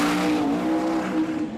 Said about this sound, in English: Great launch, but just drifted out the groove slightly and more tyre shake